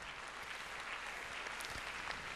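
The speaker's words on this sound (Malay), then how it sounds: "apa kata kita berikan tepukan untuk mereka semua" Audience at a Malay school speech contest, the Piala Di Raja 2008, claps for the secondary and primary school participants: a continuous, fairly quiet roomful of applause, even and unbroken, with no voices on top.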